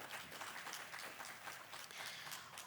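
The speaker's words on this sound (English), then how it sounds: "round of applause." Audience applause at a panel discussion on sustainability policy, a soft, even wash of clapping from a room heard at a distance and fairly faint, with no one talking.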